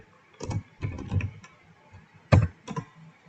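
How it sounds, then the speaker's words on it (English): Keys tapped on a computer keyboard while working in the vi text editor, heard as a few short, quiet bursts of clicks separated by pauses. "go to the insert mode and start typing anything"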